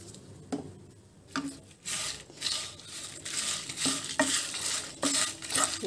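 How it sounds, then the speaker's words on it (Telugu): Grass sesame seeds roast in a pan with salt and asafoetida, stirred with repeated scraping strokes and a light dry rustle and sizzle that return in an irregular rhythm, with no talking. "రుచికి సరిపడినంత ఉప్పు వేసి వేయించుకుందాము"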